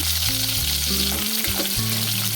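Small onions frying in oil for kovakkai kuzhambu, a steady close sizzle with no talk, while a droning musical tone plays underneath.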